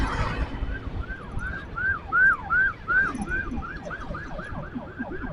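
A wailing ambulance siren warbles in fast repeating sweeps, growing louder as it nears, over road and wind noise on a Bandung street.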